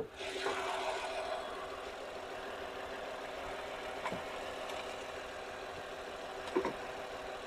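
A 2016 Datsun Redigo petrol car's engine idles with a steady, even hum at moderate level throughout, broken only by a couple of faint clicks.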